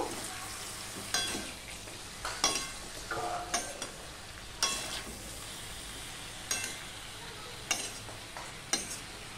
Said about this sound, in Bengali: দিয়ে সম্পূর্ণটা আমি ভালো করে আরো নেড়ে নেব।